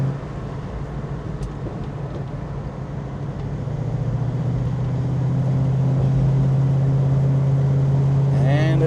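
Inside a 1969 Mustang Mach 1 with a 428 engine and new rubber seals, a steady low engine and road drone rises slightly as the car drives, with little wind noise and no talking.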